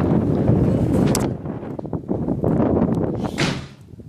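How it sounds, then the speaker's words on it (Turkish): Gusty wind buffets loudly and roughly on a rainy day, with a sharp bang of a door slamming partway through, then the rush fades. "Bayağı da bir rüzgar var."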